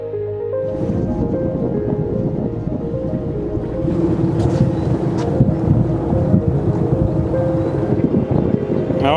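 A 1936 fishing trawler runs at sea with a low, steady engine drone, joined by wind buffeting the microphone and rushing water that grow louder midway, with no voices.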